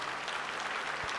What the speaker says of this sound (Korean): 박수 치려면 빨리 치고 말고